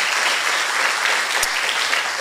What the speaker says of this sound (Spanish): un fuerte aplauso para Mildred Clemente